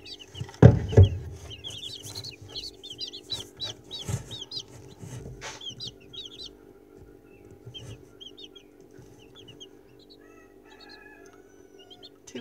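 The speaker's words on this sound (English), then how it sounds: "There's 5 little chicks there." Baby chicks in a brooding box give repeated high, thin peeps in scattered bursts, close by, with a thump and rustling at the start and a faint hum beneath.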